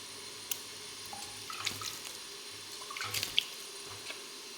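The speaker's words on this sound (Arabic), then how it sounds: "وهنا بعد ما ظفر نزيدولو الماء، هاكا نديرو كمية لاباس بيها تاع الماء" Water pours and splashes in small spurts into a dough mixture in a bowl, with faint drips and a few soft clinks against a quiet background.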